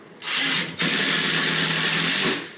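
A power drill whirs loudly while driving a screw into a bathroom cabinet, a short burst followed by a sustained, strained run of about two seconds, close to the microphone.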